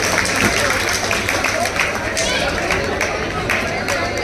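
Applause from an audience for the women of a Surat Brahmakshatriya Sakhi group, steady and dense with broad clapping noise throughout, with crowd murmur and faint voices mixed in.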